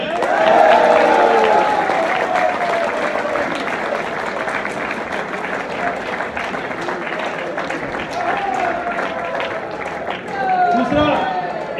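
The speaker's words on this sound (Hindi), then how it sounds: "एक ताली हो जाए।" Audience applause at a business plan presentation in India, a sustained crowd clapping with cheering and a voice talking over it, staying loud throughout.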